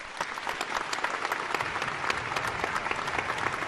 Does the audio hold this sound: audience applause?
yes